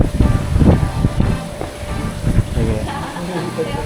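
Wind gusts buffet a microphone outdoors, giving low rumbling thumps that rise and fall in uneven bursts, with faint background noise and no clear voices.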